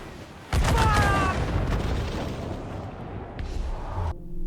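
Cannon fire bursts out in the naval combat of Assassin's Creed IV: Black Flag, a sudden loud boom followed by a rolling rumble of further blasts and debris, with faint speech under it and an abrupt cutoff at the end.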